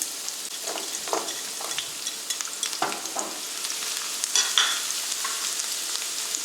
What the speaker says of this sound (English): And now I will add the garlic. So the oil is warm.